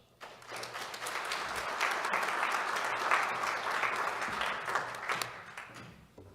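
An audience at a USPTO awards ceremony claps for award winners, applause swelling quickly, holding steady for several seconds, then fading out near the end.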